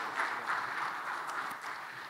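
A conference audience at a Ghana CEOs summit applauds a business panel, giving a steady wash of clapping from a large crowd that sounds diffuse and somewhat distant, holding evenly without voices on top.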